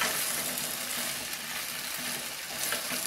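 Mixed vegetables for Pongal kulambu sauté in a hot pan, an even close sizzle with soft stirring scrapes throughout and no voices.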